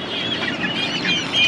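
A country chicken clucks at a village poultry market in Magadi near Bangalore, giving a close, continuous run of nasal clucks and squawks with the faint bustle of the market behind it.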